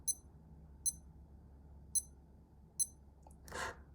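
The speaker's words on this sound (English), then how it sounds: "And here is the A168 beep." A Casio A168 steel digital watch gives four short, high, thin beeps at uneven intervals, faint and close, followed by a soft rustle of handling.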